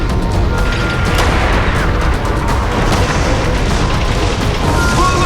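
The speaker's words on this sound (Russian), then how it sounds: "85-миллиметровая пушка продолжала бить в упор." An 85 mm tank gun keeps firing at point-blank range in a WWII battle against Tiger tanks, heard as loud, dense booming blasts over a continuous roar of combat noise, with no clear pauses.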